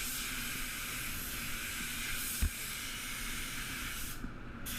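A spray gun lays PPG Envirobase clear coat onto a blue Toyota Hilux, producing a steady, close hiss of atomized spray that is interrupted briefly by a faint knock.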